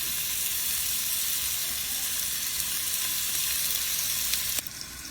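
Whitetail deer venison tenderloin sizzles loudly in a hot pan, a dense continuous frying hiss that holds steady throughout, with a brief scrape or clatter near the end.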